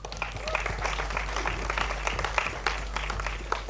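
Audience at the 2016 Madaari trailer launch applauds director Nishikant Kamat, a short burst of scattered clapping with a low steady hum beneath and a few voices mixed in.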